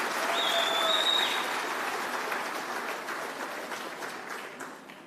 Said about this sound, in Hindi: जब मैं बोल रहा था सब ताली बजा रहे थे